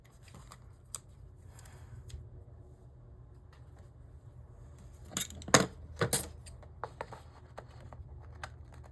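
Scissors snip through paper in a planner, several sharp crisp cuts clustered in the middle, with a few lighter clicks and snips around them against a quiet room.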